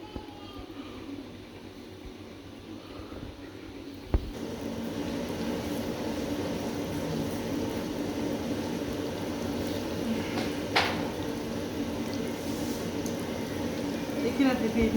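Onions frying in hot oil for mutton tahari, a steady, dense sizzle holding throughout at an even level, with a single sharp tap early on.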